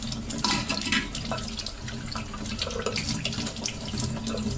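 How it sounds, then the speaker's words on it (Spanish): Plastic electrical outlet covers, fresh from a hydrogen peroxide soak, are rinsed under a running tap: a steady, fairly loud splashing rush of water throughout, with no voices. "Sacamos las mismas, les damos una primera pasada por agua."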